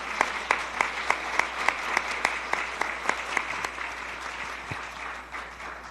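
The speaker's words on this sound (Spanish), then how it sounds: "Recibimos a Juan Esteban Izaza con un aplauso también." A modest audience at an event on Colombian Andean music claps to welcome a performer, the individual claps sharp and distinct in a loose rhythm before tapering off.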